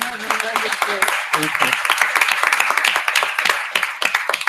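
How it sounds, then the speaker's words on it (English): An audience applauds at a gender-just climate solutions panel, dense steady clapping throughout, with a voice talking over the start. "Please, let's give her another round of applause."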